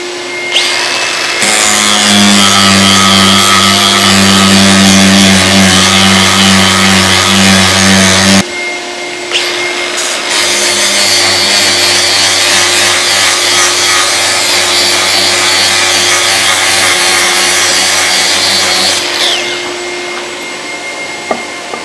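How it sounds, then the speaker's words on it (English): An angle grinder works on an old splitting axe during restoration, running loud and continuous in two long bursts with a steady whine, a short pause between them, and dust extraction roaring alongside. "this grinder is just far too dusty to use indoors"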